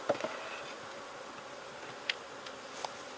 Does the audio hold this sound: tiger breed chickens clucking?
no